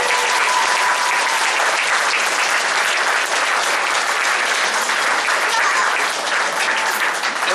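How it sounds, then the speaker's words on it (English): Loud, sustained applause from a school orchestra concert audience for volunteers, dense continuous clapping filling the room at close range without letting up. "Give a round of applause to anybody who volunteered for"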